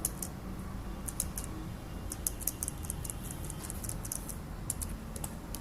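Typing on a computer keyboard, a quiet, irregular run of light clicks close by against a low hum, with no talking.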